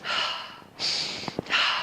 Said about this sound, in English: Breathing in rapidly